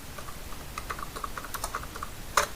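Keystrokes on a computer keyboard while writing in MS Word, a quiet run of light, irregular clicks with one sharper tap near the end, no voices.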